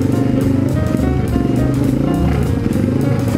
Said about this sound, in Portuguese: A moto vai morrer.